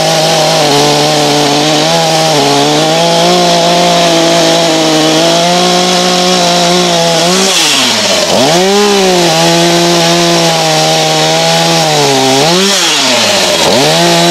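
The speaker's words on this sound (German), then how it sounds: "Wie gesagt, Kettensäge en route, Marsch und auf geht's." A chainsaw cuts wood up close, its loud, steady high-pitched engine drone bogging down and rising again as it bites into the log, with no talking.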